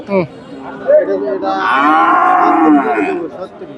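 A cow lets out a long, loud, nearby moo, preceded by a few short voices and animal sounds at a busy outdoor cattle market in Betaga, Bangladesh.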